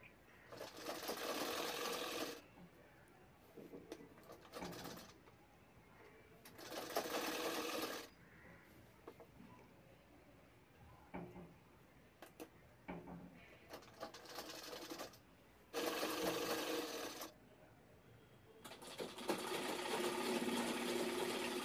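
A sewing machine stitches a lehenga belt strip in several bursts of rapid, close mechanical whirring, separated by quieter pauses with handling sounds.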